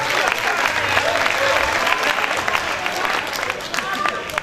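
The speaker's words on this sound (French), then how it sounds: "merci de l'applaudir encore une fois," A crowd applauds steadily and loudly at a national patriotic slam poetry championship evening, with dense continuous clapping and faint voices in the mix throughout.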